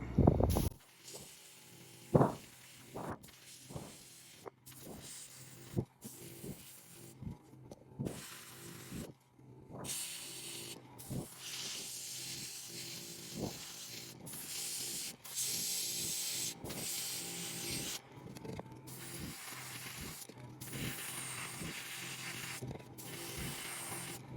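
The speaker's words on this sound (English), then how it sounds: "I'm going to airbrush around the eye sockets, inside the ears, do some detailing on the hands, on the cheeks" Airbrush spraying paint onto a handmade kaiju toy's eye sockets, ears, hands and cheeks: close, soft airy hissing in repeated short bursts and longer sustained passes, with no talking.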